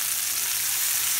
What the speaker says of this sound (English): add the onions to the bacon grease in the skillet after you've pulled them out